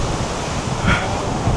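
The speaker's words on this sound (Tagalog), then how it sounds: "Tapos biglang lumakas yung hangin." Strong wind in Brisbane roars steadily, a broad rushing noise buffeting the microphone with a brief gust swelling near the middle.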